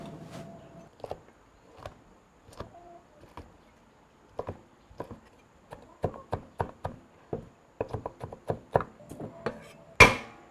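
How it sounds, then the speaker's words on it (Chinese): A cleaver chops pickled chilies on a board in sparse, irregular taps at first, then quicker bursts of close, crisp strikes ending in one loud hit. "把泡椒给它宰碎。"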